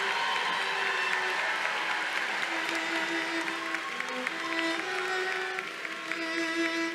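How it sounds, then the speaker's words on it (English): Sustained applause from a large commencement crowd honoring Counseling and Human Development graduates, a steady dense wash of clapping lasting several seconds with faint cheering mixed in and no speech over it. "please give a round of applause for the Department of Counseling and Human Development graduates"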